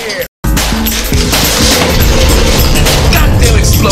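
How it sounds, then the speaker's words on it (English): A loud explosion sound effect from a video game channel intro: a deep boom after a brief silent gap, then a sustained dense rumble and crackle of debris that stays loud to the end. "Goddamn explosion, man."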